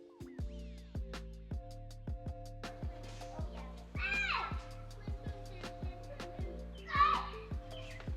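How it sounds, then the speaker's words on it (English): Children's voices and play carry from outside in the background, faint and intermittent, mixed with chirpy high calls over a regular ticking pulse from a motorcycle's LED turn signals being tested. "I apologize in advance if you guys hear my kids in the background."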